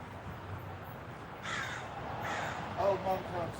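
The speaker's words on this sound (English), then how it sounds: "Mom crow, come to my tree." A crow caws several times in a row, moderately close and fairly loud, against faint outdoor background noise.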